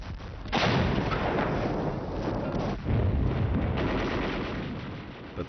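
Heavy artillery and gunfire from WWII battle footage of the island war, with British Indian troops under fierce fire: dense, continuous booming and crackling with fresh loud blasts near 0.5 and 2.8 seconds, no talk.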